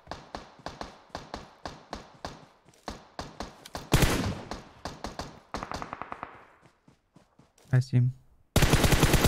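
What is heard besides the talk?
gunfire in a video game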